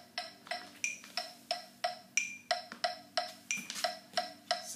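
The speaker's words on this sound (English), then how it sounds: "And I set that metronome at 180 beats per minute." A smartphone metronome set to 180 beats per minute clicks in a fast, steady pulse, about fourteen crisp ticks with alternating higher and lower accents, close and clear with no talking.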